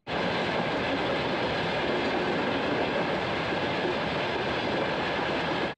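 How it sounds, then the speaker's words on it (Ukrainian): A train passing over an unguarded railway crossing, a loud continuous rumble of wheels on track with faint clickety-clack, steady from start to finish with no voices. "цією колією досить часто рухаються потяги"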